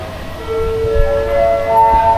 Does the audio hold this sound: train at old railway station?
yes